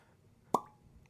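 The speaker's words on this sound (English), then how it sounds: "maybe that was a great cork pop." A cork pops from a bottle of Weller Full Proof bourbon: one sharp, close plop with a short hollow ring, alone in a quiet room.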